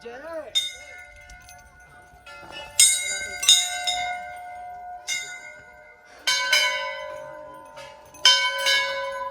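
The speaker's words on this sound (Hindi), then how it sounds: "भाई घंटियों की मान्यता है तो घंटियां ही बजेंगी।" Metal temple bells at the Golu Devta temple in Nainital ring out in repeated clangs, several strikes close together with long bright ringing tails, loud and near, with faint voices in the background.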